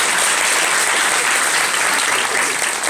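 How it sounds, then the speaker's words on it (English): A crowd claps in dense, steady applause at an indie game event, staying loud throughout the short stretch. "A round of applause for"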